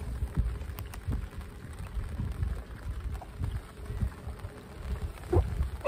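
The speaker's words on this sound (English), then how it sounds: "You can hear the rain probably clicking away." Rain patters and clicks on a boat's bimini canopy on Tappan Lake, with scattered light taps over a low, steady background and no talking.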